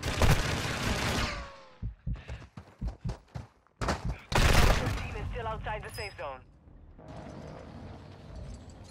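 Bursts of gunfire in Warzone 2 on Ashika Island, with sharp rapid volleys and single shots scattered among pauses, mixed with other game sounds and voices talking over them.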